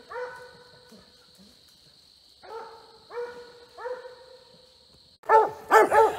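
A coonhound bays while working a raccoon track on a Maryland coon hunt: clusters of long, drawn-out, mournful bawls at a moderate distance, then a few louder, closer bursts at the end, with a steady high whine droning underneath most of the time.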